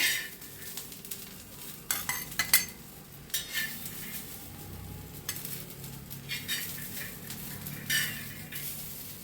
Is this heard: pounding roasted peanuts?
yes